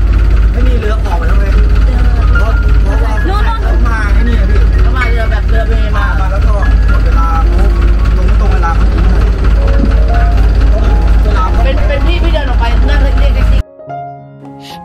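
A Bangkok canal boat's engine runs as a continuous low drone, loud and close, with other sounds layered over it, before cutting off abruptly near the end.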